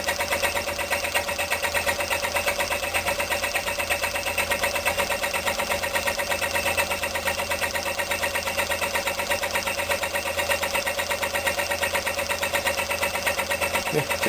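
Homemade Stirling engine running down until out of fuel, a steady close mechanical chugging and whirring that holds even throughout with a fast regular rhythm.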